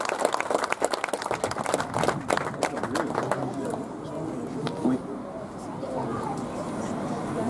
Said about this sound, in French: et on va surtout l'applaudir.